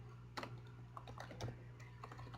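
Keys clack on a computer keyboard in a short, uneven burst of quick taps, close by and fairly quiet, with small pauses between strokes and no one speaking.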